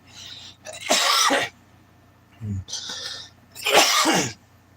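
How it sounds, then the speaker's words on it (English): A few harsh bursts of coughing and throat clearing, close and loud, separated by brief quiet pauses. "the mustache making me cough"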